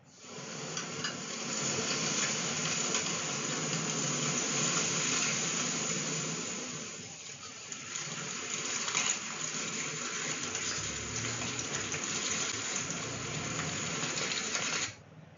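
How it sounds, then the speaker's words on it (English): Water gurgles and bubbles continuously at close range, a busy, textured churning sound with a brief dip midway, heard alone without any voices. "And the last one, gurgle."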